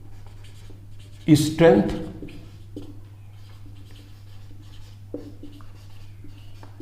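Marker or chalk scratching across a board during a biology lesson on plant cells, a faint steady scrawl over a constant low hum, broken by a brief burst of a man's speech.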